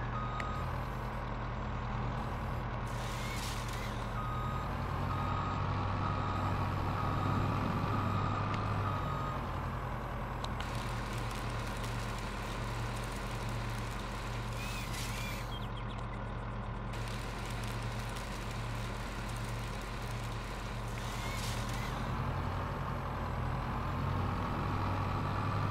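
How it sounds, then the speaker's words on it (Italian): A big truck in Farming Simulator 22 rolls in and reverses, its engine droning steadily while a loud backup beeper pulses in a regular rhythm throughout, with air brake hisses near the middle. "Questo grosso il camion dovrebbe essere quasi arrivato"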